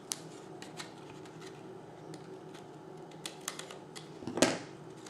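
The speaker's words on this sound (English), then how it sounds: "just simply take a pair of scissors that you use for your paper and trim that off right away" Paper scissors snip overhanging cardstock flush on a Halloween treat box, a few light crisp cuts ending in a louder close snip near the end, alone with no talk.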